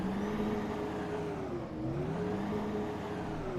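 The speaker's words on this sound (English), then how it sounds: "Let's give it a little bit of a rev." Simulated Volvo B9TL Gemini 2 double-decker bus engine in the OMSI 2 game revving steadily, a droning tone rising and dipping slightly through the rev, continuous and moderately loud with no talking.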